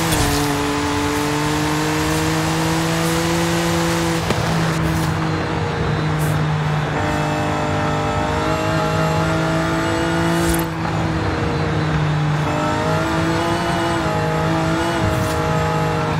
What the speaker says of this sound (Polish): Mamy ten bardziej agresywny układ wydechowy teraz, więc samochód powinien lepiej brzmieć